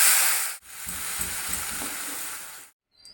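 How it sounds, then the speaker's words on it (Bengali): Spice paste going into onions that have been fried until reddish-brown in hot oil gives a loud, steady sizzle with hissing steam, broken by a brief pause and a few soft stirring knocks, then cut off abruptly; no voices. "পেঁয়াজগুলো একটু লাল লাল করে ভেজে নিয়েছি আর এবার যে মশলাটা করে রেখেছি সেটা দিয়ে দিলাম"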